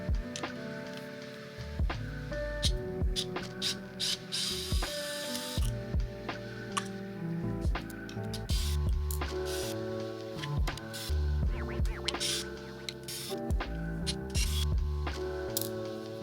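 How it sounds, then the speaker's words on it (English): Screwdriver backing out small screws from a camera's threaded tripod mount, with repeated sharp clicks, ratcheting scrapes and small metallic taps in an irregular rhythm, close and fairly quiet. "let's have the screwdriver do what it was designed to do."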